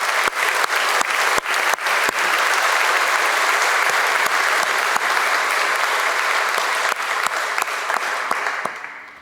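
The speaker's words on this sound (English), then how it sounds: "Please join me in giving them a round of applause" Crowd at a military commissioning ceremony claps in sustained applause, dense and loud with sharp individual claps standing out, tapering off at the end.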